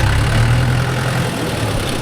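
A JCB 3DX backhoe and a Mahindra 415 DI tractor with trolley at work loading soil, a loud, steady low diesel rumble idling close by, with no voices.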